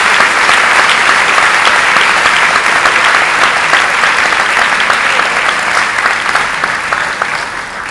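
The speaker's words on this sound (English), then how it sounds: "Big round of applause for all of these scholarship recipients." Loud, dense applause fills a high school awards assembly for scholarship recipients, a continuous roar of many hands clapping that eases slightly toward the end, no voices.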